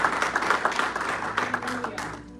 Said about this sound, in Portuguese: Vamos dar uma salva de palmas, Senhor, por isso?